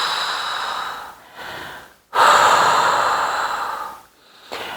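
Long, loud, breathy exhales close to the mic during a mat Pilates workout, two or three sustained rushes of air separated by short silent breaks, with no talking.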